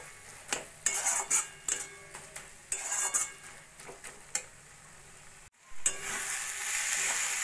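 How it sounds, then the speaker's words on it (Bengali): A spatula scrapes and knocks through mashed flat beans (sim) cooking in a pan, in irregular clattering strokes, then a sustained close sizzle rises and holds after a brief pause. "এইভাবে নাড়া দিয়ে দিয়ে যতক্ষণ না বেশ মাখা মাখা হচ্ছে ততক্ষণ আমি শিমটা রান্না করে নেব"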